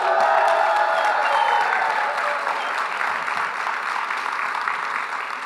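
Audience applause with some cheering in a large conference hall at a closing plenary session, a thick continuous clapping roar that holds steady and slowly tapers.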